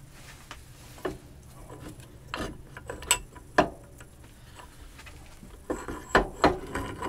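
Metal parts of an Interpump W3523 pump knock and clack in scattered sharp bursts as the crankshaft is jiggled and worked free of the casing, with no talk.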